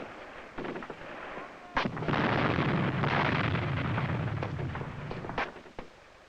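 Swiss Army short-range defensive fire in an infantry combat exercise: a rapid string of sharp gun reports and blasts, with a long loud rumbling burst in the middle, close and forceful, no talking.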